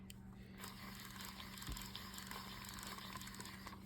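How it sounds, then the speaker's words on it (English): Johnson Crappie Spin spinning reel drag clicking after servicing and lubrication, giving a steady fine ratcheting patter as line pulls out, close and fairly quiet throughout. "There goes the drag working."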